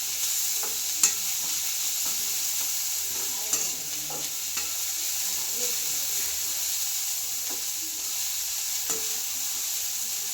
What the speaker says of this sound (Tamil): அதுக்கப்புறம் அது மூணையும் நல்லா வணக்கிக்கிறோங்க